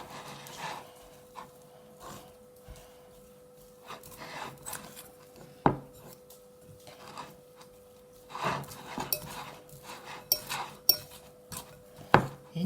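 Oyster gratin filling being stirred with salt and parsley in a bowl, with scattered clinks and scrapes of a utensil against the dish, irregular and close, with quiet pauses between strokes.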